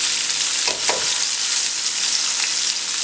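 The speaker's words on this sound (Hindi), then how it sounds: "प्याज डाल दें" Onions sizzle in hot oil flavoured with bay leaves and cumin, a steady close crackle with a few stirring scrapes while an egg biryani is being prepared.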